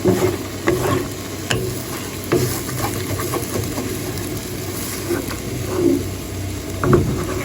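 Three eggs stirred into fermented fish (pla som, Phayao style) frying in a pan: a steady hiss of sizzling oil under repeated scraping strokes of a spatula, close and fairly loud, with no talking.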